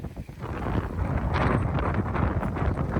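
Strong wind gusts over the sea by a fishing spot used for crab hunting, heard as a steady, rough roar with buffeting against the microphone and no voices.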